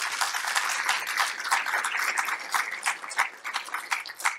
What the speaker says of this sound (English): So please, a warm applause for both of them.